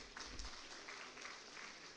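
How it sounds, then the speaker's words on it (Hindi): Applause from an audience welcoming an award recipient at an official language award ceremony, a soft, distant, steady patter of clapping throughout. "जोरदार तालियों से आप लोग स्वागत करें"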